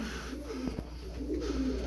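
Soft, low cooing from a flock of tumbler pigeons repeats faintly over a steady background hum, with a couple of brief taps in between.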